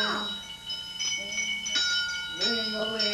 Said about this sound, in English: No, don't drop the bell.